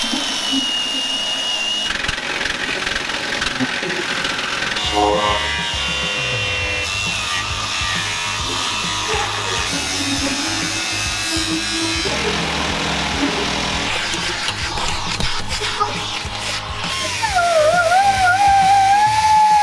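A power tool cuts steadily and loudly, close by, through aluminum to notch around the drive shaft of a custom offroad bread van, its pitch shifting as the load changes and rising to a whine near the end.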